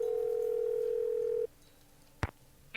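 A steady telephone dial tone from a phone in a Nancy Drew detective game holds for about a second and a half, then cuts off, followed by a single short sharp click or key tone and another brief sound at the end.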